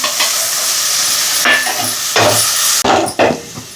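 Oil sizzles and crackles steadily in a pan while a spoon stirs and scrapes through a tempering with grated coconut for avarekalu rice upma, close and loud, with no voices.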